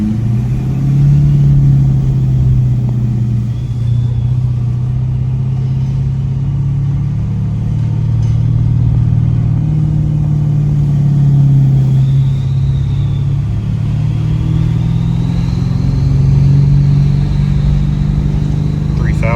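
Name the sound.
Ford F350 with compound turbos accelerating after downshift to second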